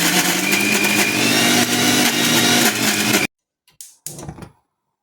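A mixer grinder whirs loudly and steadily as it grinds fried garlic for a garlic chutney, running for about three seconds before cutting off, followed by a few short restarting bursts.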